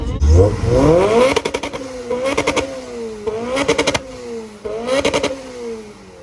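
A big turbocharged car engine revs hard in several loud, close bursts, each climbing then dropping off, with popping crackle between them.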